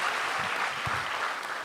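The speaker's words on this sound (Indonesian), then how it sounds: "sekali lagi tepuk tangan dong teman-teman" Steady applause from a stand-up comedy semifinal audience fills the room, a dense, even wash of clapping that holds at a constant loud level throughout.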